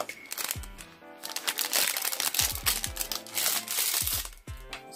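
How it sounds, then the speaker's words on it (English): Plastic packaging from a monthly beauty subscription box crinkling and crackling up close, a dense run of rustles and sharp crunches lasting throughout with no speech. "for the crinkling"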